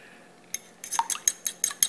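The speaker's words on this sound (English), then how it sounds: "Crack it open in a separate bowl and beat it slightly." A fork beating a single egg in a separate bowl while making homemade pie crust gives a quick run of light, regular clinks against the bowl, close and fairly quiet.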